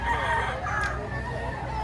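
A rooster crows once nearby, a drawn-out call over a murmur of background voices and ambient noise, at a chicken market in Padre Garcia, Batangas.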